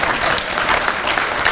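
An audience at a middle school ribbon-cutting ceremony claps in steady, dense applause that stays loud and even, with no voices on top.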